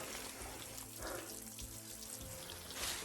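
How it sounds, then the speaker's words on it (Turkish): Water from a natural spring out in the woods runs steadily in a continuous close splashing stream that stays even throughout the short stretch, with no talk over it. "Hala su gelmeye devam ediyor."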